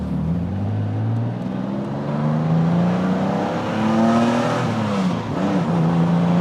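A TVR T350C revs up hard, its pitch climbing through several gears in a steady, loud roar with no speech.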